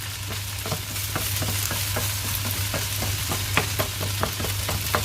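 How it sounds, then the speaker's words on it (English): Grated potato rosti is pressed flat in a frying pan, with a run of regular soft taps and scrapes over a constant low sizzle and hum. "press it real flat. As much as you can press it down, and then flatten again."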